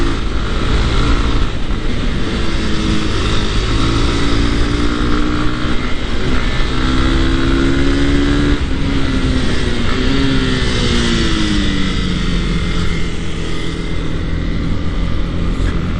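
Honda CB300R motorcycle riding along a loose gravel road with the rear wheel losing traction, its engine droning loudly and steadily throughout with rising and falling pitch as it accelerates and eases off.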